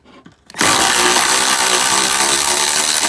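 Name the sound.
battery-powered cordless ratchet running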